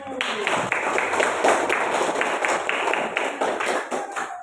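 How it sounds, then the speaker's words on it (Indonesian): Classmates clapping for group 1 in a classroom lesson, a short burst of fairly even, close claps that holds steady for a few seconds. "Tepuk tangan untuk kelompok 1."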